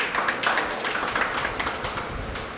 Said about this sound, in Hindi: तो एक बार उनके लिए जोरदार तालियां हो जाएं।